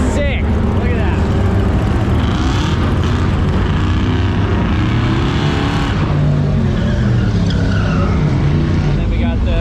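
A Volvo wagon launching at a drag race event, engine and tire noise loud and close with squealing texture, crowd and voices talking underneath throughout.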